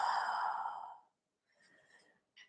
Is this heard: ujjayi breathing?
yes